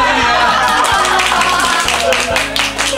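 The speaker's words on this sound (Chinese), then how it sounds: "掌声欢迎。" A wedding audience bursts into loud, close applause that lasts about three seconds, mixed with scattered laughter and voices.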